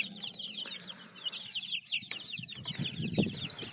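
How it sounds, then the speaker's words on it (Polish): Young roosters and hens from a second incubator hatch cluck and chirp close by, a busy overlapping flurry of calls with a brief wing flap, louder clucking near the end. "Bo tu się szykują koguciki."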